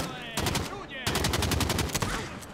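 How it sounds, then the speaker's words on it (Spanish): Rapid bursts of automatic gunfire in Call of Duty Modern Warfare, loud and close, two long volleys of evenly spaced shots separated by a brief pause. "Me voy a pegar un tiro a este."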